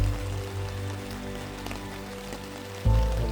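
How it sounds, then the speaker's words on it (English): Rain falls steadily on a campsite with a tent in the Monashee Mountains, a continuous close patter with a low steady hum beneath, briefly louder near the end. "It's coming down harder and harder here."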